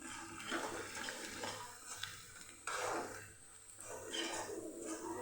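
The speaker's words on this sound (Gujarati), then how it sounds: "અહીંયા આપણે હવે પાણી ઉમેરી દઈશું અને શાકને ભાજીને આપણે થવા દઈશું" Water is poured into a pan of methi gathiya curry on the stove, giving a steady splashing gush in several bursts with no talking.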